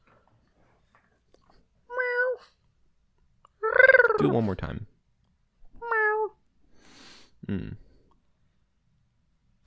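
A person imitates cat meows: four short, pitched, wavering meow calls spaced apart by silent gaps, close and clear, with a few spoken words among them.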